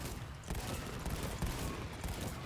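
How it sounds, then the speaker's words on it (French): Gunfire rakes through a horde of zombies in the video game World War Z, a dense, continuous run of rapid shots with crackling bursts throughout, loud and close with no voices on top. "Il y a quelqu'un qui est en train de dégommer du zombie"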